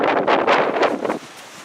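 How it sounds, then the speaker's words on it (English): Strong wind gusting outdoors in Texas, broadband roaring bursts buffeting the microphone for about a second before easing to a steadier, quieter rush. "It's windy as hell out here"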